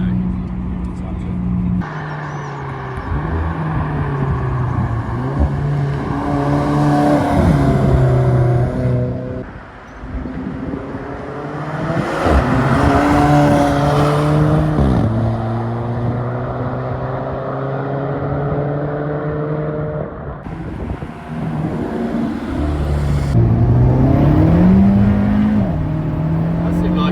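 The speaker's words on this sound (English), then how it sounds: "So that was a second gear pull." Tuned Alfa Romeo 4C pulling hard through second gear, engine note rising steadily in pitch over several long sweeps with brief dips at shifts or lifts, loud and close, with people talking over it.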